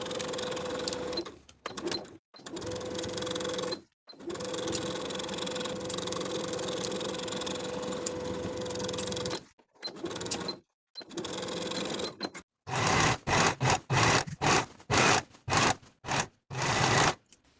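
A sewing machine stitches a half-inch seam joining the bodice of a dress to the skirt, running in long steady bursts with short pauses, then faster choppy stop-start runs near the end.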